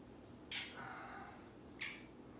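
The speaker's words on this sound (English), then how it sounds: "There's the cat." A cat meows twice, faint and somewhat distant, in a quiet room, with the two short calls spaced about a second apart.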